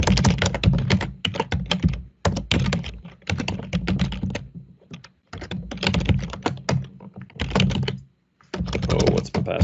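A password is typed on a computer keyboard in quick bursts of close, crisp keystrokes, broken by short pauses, with no voices.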